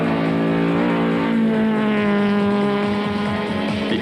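Touring race cars roar past at the Killarney circuit during a 1998 Bankfin Touring Car race, engines droning loudly and continuously with shifting, overlapping pitches.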